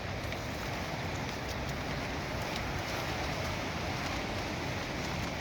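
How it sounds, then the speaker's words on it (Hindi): Rain falls on a slippery mountain trail on the Shrikhand Mahadev pilgrimage route, a soft, even, continuous hiss at low level with no voices. "पानी बरसात हो रही है"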